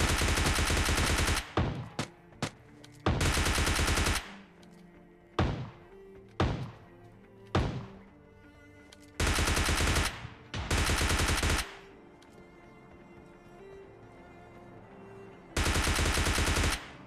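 Gunfire in the PUBG Mobile Lite video game: loud automatic bursts lasting about a second each alternate with single sharp shots and thuds, spread through quieter gaps.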